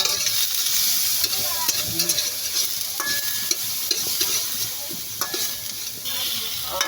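Salmon belly sautés in a pan for sinigang, a steady close sizzle with scraping stir strokes and occasional utensil clicks, no voices.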